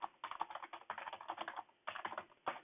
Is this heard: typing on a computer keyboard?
yes